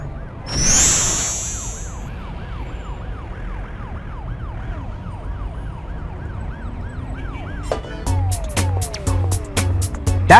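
In a Stuart Little 3 PS2 cutscene, a police car siren wails in steady rising-and-falling sweeps after a short chirping burst, then gives way to a cluster of sharp clanks and honking beeps at the end.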